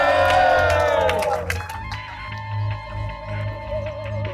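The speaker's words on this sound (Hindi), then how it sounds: "तालियां!" Crowd cheering and whooping in a dramatized public gathering, loud at first with a tonal sweep over it, then settling into a steady, swelling murmur of voices and scattered applause.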